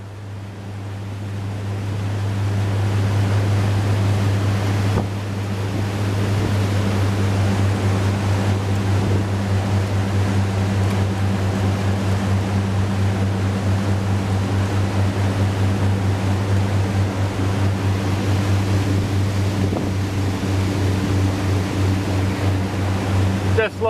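A 32-foot Trojan boat motors steadily across the water on a sea trial, a loud constant engine drone with rushing water and wind noise running the whole time.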